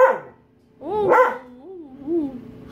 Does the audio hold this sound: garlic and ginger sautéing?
no